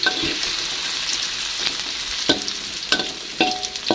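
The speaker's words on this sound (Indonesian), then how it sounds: "ini sisa tempe yang tadi setengahnya langsung aja kita goreng" Steady crackling sizzle of tempeh frying in hot oil, with a few sharper pops and clinks now and then, no voices.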